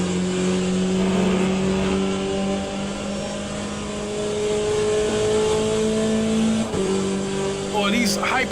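Hypercars racing in the video game Le Mans Ultimate, with steady engine drones and shifting pitch as cars charge past, a continuous loud wall of motor noise throughout with voices talking over it.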